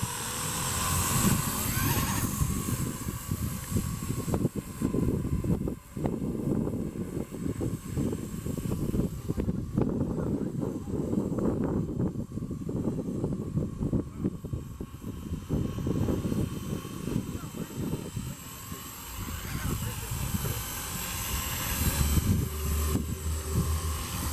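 A continuous, loud whirring drone of an aircraft rotor with a carbon fiber blade spinning at high RPM, gusty wind buffeting throughout, steady and close.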